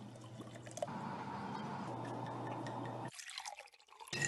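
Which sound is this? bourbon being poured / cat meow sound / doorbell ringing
bourbon being poured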